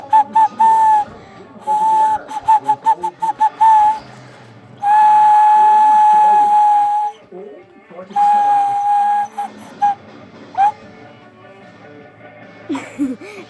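Blowing through a capped drinking straw makes a thin, reedy whistle in several bursts, short toots and a longer held tone, close and fairly loud, with a voice speaking between them.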